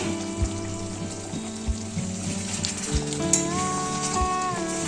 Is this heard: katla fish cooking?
yes